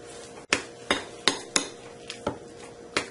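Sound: stirring a sticky beet appetizer mixture

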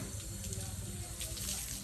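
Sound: water running from a newly connected tap

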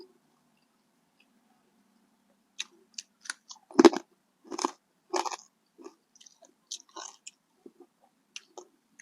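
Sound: chewing fried crispy chicken wings

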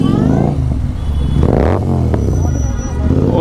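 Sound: Continental GT 650 motorcycle with loud exhaust revving

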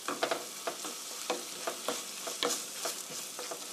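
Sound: stir-frying meat sauce in a pan

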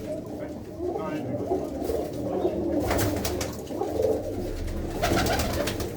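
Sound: pedigree pigeons cooing

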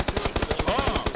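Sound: gunfire in the video game PUBG

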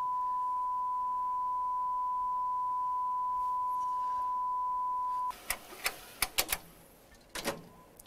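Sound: test tones played back from tape during transfer

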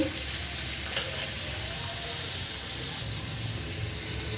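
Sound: stirring vegetables with salt in a frying pan

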